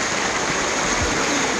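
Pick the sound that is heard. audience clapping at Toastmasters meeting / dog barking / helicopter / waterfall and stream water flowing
waterfall and stream water flowing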